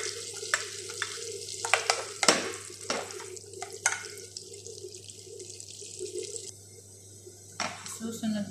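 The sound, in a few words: garlic frying in a pan for seafood soup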